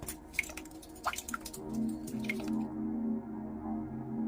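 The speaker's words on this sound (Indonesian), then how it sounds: "terdengar suara tetesan air. Pelan berulang, seolah ada genangan kecil di sana." Slow, repeated drops of water fall into a small puddle beneath a bed, soft irregular plinks over a low hum in a quiet horror scene.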